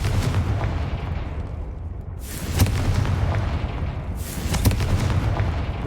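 A Confringo fire spell blasts in Hogwarts Legacy: two loud fiery bursts, each a sudden bright whoosh over a constant deep rumbling roar of in-game ambience, with no talk.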